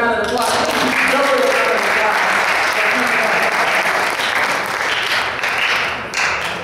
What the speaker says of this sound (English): Give Kevin a round of applause.